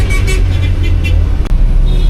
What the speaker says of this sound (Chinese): 这是他们这边的大型的公交车